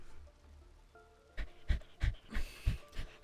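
A dog panting loudly and close by in rhythmic bursts of breath, each pant a broad burst of noise, with quieter background sound before the panting begins.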